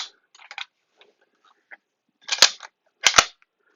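The bolt of a heavy cock-on-close rifle that takes down like a Mauser is worked by hand, faint metallic rattles followed by two sharp, loud clacks about a second apart, close by.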